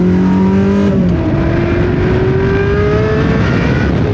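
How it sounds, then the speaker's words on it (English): Ferrari 360 with a gated manual conversion, engine note sustained and loud throughout, pitch stepping down once early then climbing steadily as revs rise, like a rev-matched downshift followed by acceleration. "it's just perfect for match rev downshifting"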